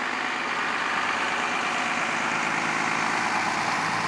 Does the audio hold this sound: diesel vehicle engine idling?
yes